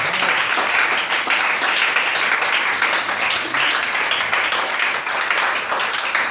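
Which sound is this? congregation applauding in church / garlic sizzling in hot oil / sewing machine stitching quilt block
congregation applauding in church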